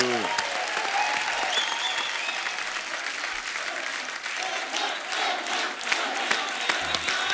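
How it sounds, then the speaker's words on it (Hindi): A large TV studio audience on The Kapil Sharma Show applauds loudly and continuously, with scattered cheers and a voice speaking over the clapping. "जोरदार तालियां एक बार सलमान भाई के लिए।"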